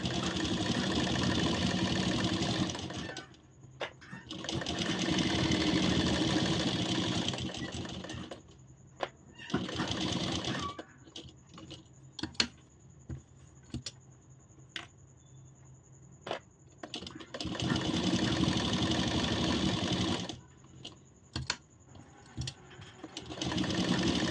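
Sewing machine stitching blouse fabric for a princess-cut blouse, running in several bursts of steady rapid whirring separated by quiet pauses with small clicks and handling noises.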